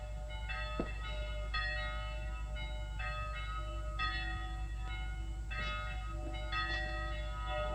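Church bells peal to summon townspeople to the town hall, a repeated, layered sequence of clanging strikes in uneven rhythm over a low steady rumble, with no talk.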